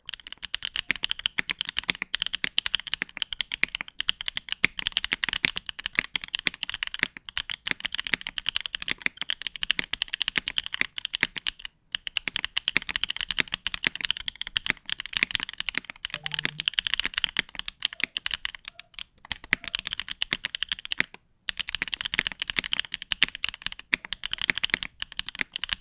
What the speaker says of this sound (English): And here's the sound of a keyboard that has no foams in them, and this is what they call raw sounding keyboard